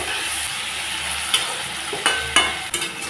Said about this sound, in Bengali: সবজি আর মশলা ভাজা ভাজা হয়ে গেছে।